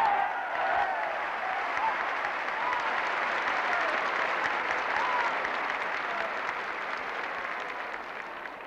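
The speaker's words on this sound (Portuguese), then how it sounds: "Aplausos." Crowd applause at a rally supporting Salazar in Portugal, sustained clapping from a large gathering, steady and fairly faint with a recorded, distant quality, easing off toward the end.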